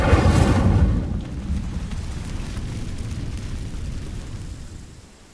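An Incendio fire spell in Hogwarts Legacy bursts out as a loud whooshing blast that rumbles briefly, then fades into a long, steady roar that slowly dies away.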